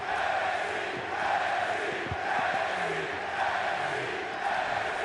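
An arena crowd in WWE 2K25 chants NXT, a steady loud roar of many voices with rhythmic swells that fills the whole span.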